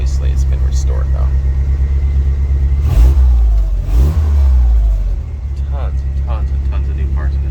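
A restored 1981 Jeep Scrambler with a 4.0L engine runs steadily with a low, constant rumble, rising briefly in a couple of revs around the middle before settling back to idle.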